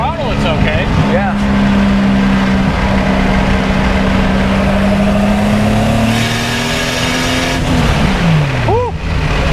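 Modified Nissan S14 with a swapped 2JZ engine, running close and loud with a sustained tone that climbs and then drops as it revs, with short rising blips at the start and end.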